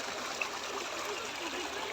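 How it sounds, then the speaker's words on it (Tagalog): Strong stream of water rushing along the side of a road, a steady broadband flowing hiss at moderate level throughout, close by and continuous with no talk over it. "ang lakas-lakas talaga ng water nila dito, oh"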